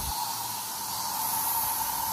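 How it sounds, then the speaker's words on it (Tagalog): Lysol disinfectant sprayed over a bed in a steady, close hiss of aerosol mist that holds without break for about two seconds. "nag-spray din ako ng Lysol para ma-disinfect yung kama ko"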